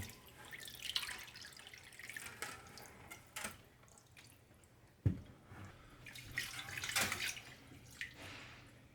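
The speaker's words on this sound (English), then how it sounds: "if I lift up the bucket, I will get a faster drain" Water drains from a bucket resting on a table during aquarium maintenance, a soft trickle with scattered drips and splashes, quiet and close, with a sharper thump near the middle.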